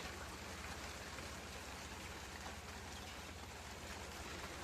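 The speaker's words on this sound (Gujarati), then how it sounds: "અહીંયા અમારે વરસાદ આવે છે" Steady, dense morning rain on farmland hisses evenly throughout, a constant wash of falling drops with no voices or pauses.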